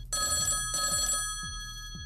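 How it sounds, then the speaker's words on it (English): A telephone ringing with an incoming call in a morning radio show studio, loud repeated electronic bell bursts in a steady rhythm, near and alone. "Oh, we got a phone call."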